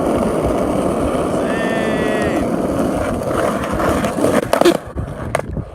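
Skateboard rolling outdoors gives a steady, loud, gritty wheel roar that ends in a few sharp jolts and clacks as the wheels run over a pebble, then quieter scuffs follow.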